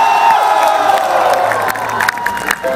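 A comedy club audience at a live stand-up show bursts into loud, sustained applause mixed with cheers and whoops, a dense crowd roar that fills the whole moment before thinning slightly at the end.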